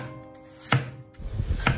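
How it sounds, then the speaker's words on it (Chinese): A kitchen knife cuts a peeled potato into thin slices on a board, giving two crisp, close chopping strikes about a second apart with quiet in between. "再准备一个土豆，去掉外皮之后也切成薄片"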